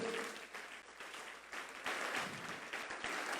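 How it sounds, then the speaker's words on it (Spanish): A church congregation applauding during a sermon, a faint, steady wash of clapping heard from a distance for a few seconds. "De un fuerte aplauso al Señor."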